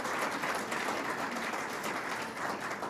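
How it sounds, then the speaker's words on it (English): A crowd at a county precinct community center applauds steadily, a dense, sustained wash of clapping filling the room for a few seconds. "So let's give a round of applause to all the staff here and Commissioner Garcia."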